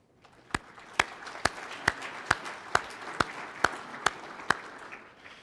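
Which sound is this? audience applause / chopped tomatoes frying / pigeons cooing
audience applause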